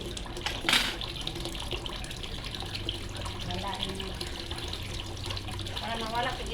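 Tap water runs steadily in a household setting, a continuous splashing hiss with a louder spurt near the start, while a person talks over it.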